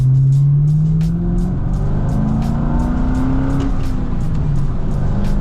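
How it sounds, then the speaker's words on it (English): A Chevrolet Corvette Grand Sport's exhaust drones steadily from inside the cabin while driving, a deep, continuous engine note that rises and falls slightly in pitch, with a faint regular ticking over it. "I don't know if you can hear the exhaust right now, but it does actually sound pretty darn nice."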